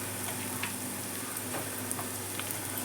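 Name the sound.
ginger garlic paste frying with browned onions in a pan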